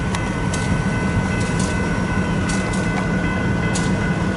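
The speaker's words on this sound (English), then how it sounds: "he just let 2 cars free roll into the yard there" Two railcars free rolling into a rail yard in Fremont, Nebraska, giving a steady low rumble with faint metallic squeals and clicks from the wheels, continuous and at moderate distance, with no talk.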